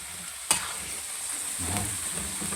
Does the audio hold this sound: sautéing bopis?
yes